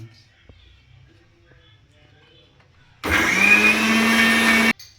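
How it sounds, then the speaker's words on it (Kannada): A mixer grinder whirs loudly while grinding masala, starting abruptly after a quiet stretch of faint background sounds and running as a steady, high-pitched motor drone for under two seconds before cutting off sharply. "ಮಿಕ್ಸಿ ಒಳಗೆ ಅಂದ್ರೆ ಇಷ್ಟು ಫಾಸ್ಟ್ ಆಗತ್ತಲ್ಲ ಇದು ಮಸಾಲೆ ರುಬ್ಬೋದು"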